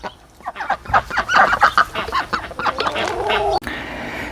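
Backyard homestead ducks quacking and chattering close by, a busy run of rapid overlapping calls that keeps going before a brief pause and a softer trailing sound.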